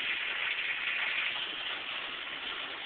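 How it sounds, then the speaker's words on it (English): Heavy rain pours onto a pickup truck, heard from inside the cab as a dense, steady drumming hiss that holds constant throughout. "Man, is it raining hard."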